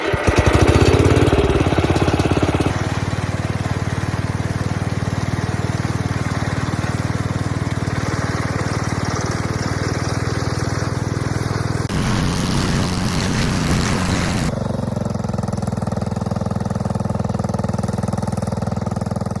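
Wheel Horse lawn tractor engine running steadily for trimming and cleanup work on an August food plot, a loud, continuous droning hum with slight shifts in load and no voices.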